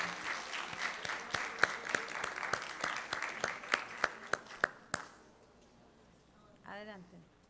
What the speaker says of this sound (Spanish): Un aplauso muy fuerte para ellos y ellas.